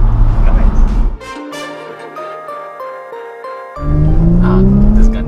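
Ford EcoBoost car on a highway near the Golden Gate Bridge, engine noise dropping away as gears climb in a rising whine, then surging back as it accelerates hard, with people talking inside the cabin.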